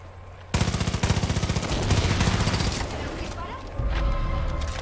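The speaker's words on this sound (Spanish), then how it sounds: "Sí, era un disparo." Rapid bursts of Far Cry 5 gunfire crackle loudly, a quick rattling volley followed by scattered shots.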